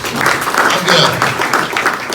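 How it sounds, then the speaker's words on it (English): Audience applause at a Hall of Fame induction ceremony, a steady wash of clapping from a seated crowd, fairly loud and continuous with voices mixed in throughout. "One more round of applause for Dave"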